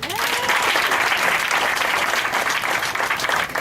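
Sustained applause from a church congregation, a thick, even roar of many hands clapping at full volume throughout with no break.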